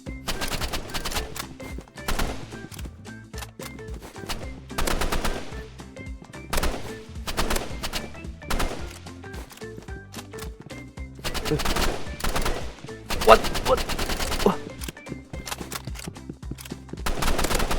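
Rapid gunfire rattles in bursts in the Roblox game Rivals, with dense shots and short pauses throughout, and a player briefly speaking over the action.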